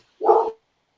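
Frankenstein, a dog, gives a single short bark, close and fairly loud, followed by silence.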